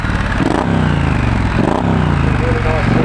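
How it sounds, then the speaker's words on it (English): A 2017 Triumph Scrambler motorcycle's exhaust note rumbles loud and close, with engine pitch rising and falling through a few revs, while someone talks over it. "It's got a great exhaust note for a standard bike."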